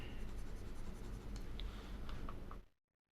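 A pencil scratches steadily across paper while tracing the outline of a triangular glass prism, a close, continuous scraping that stops abruptly near the end.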